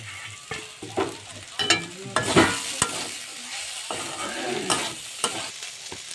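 Drumstick flowers fry with turmeric, salt and a little sugar in a pan, giving a steady sizzle broken by repeated scraping stirs of a spatula, close and fairly loud, with no talking.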